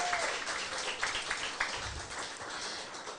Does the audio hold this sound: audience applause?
yes